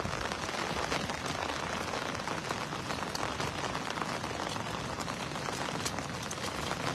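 Heavy rain pours steadily, a dense, loud hiss of drops hitting surfaces without pause.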